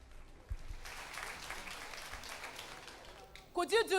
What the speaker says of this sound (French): Applaudissons à la gloire de Jésus-Christ.